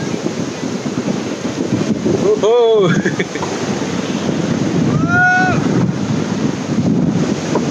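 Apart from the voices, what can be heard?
strong wind on beach at Goa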